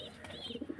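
A brief, soft run of low cooing from a pigeon, a few quick pulses close by, faint against quiet background noise.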